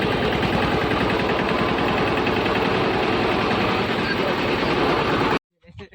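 A tractor engine runs while driving, a loud, continuous low rumble with a rapid knocking pulse that holds steady, then cuts off abruptly near the end.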